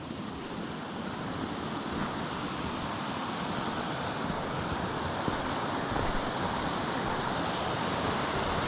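Steady, loud rushing creek water fills the scene without pause, a broad continuous wash like a fast-flowing stream heard up close.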